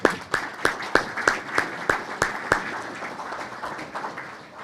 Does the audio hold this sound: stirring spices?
no